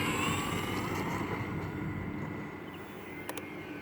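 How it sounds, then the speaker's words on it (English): An E-flite T-28B Trojan RC plane's electric motor whines steadily as the throttle is eased up in the evening air, a fairly even, slightly hissy drone with some wind buffeting on the microphone. "So ease into the throttle."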